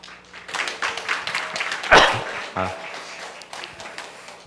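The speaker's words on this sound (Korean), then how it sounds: "이 시간 나오실 때 열렬한 환영의 박수 부탁드리겠습니다" Church audience at a Wednesday Bible study gives a welcoming round of applause for a speaker, scattered uneven claps with one loud bump near the middle and murmured voices.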